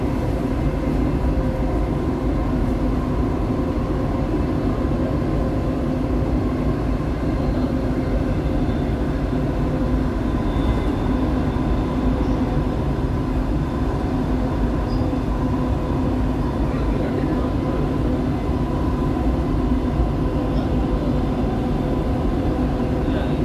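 Dubai Metro Green Line train running, a steady loud rumble and rail hum heard from inside the carriage, continuous and unbroken with no voices.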